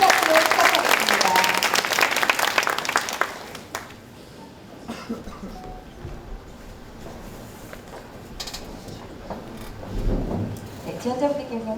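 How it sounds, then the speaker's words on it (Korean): Audience applause opens a mock job-interview demonstration at a public-institution recruitment fair, loud and dense for about three seconds before fading into quiet room noise with a few scattered claps and a brief stir near the end. "큰 박수로 시작하겠습니다."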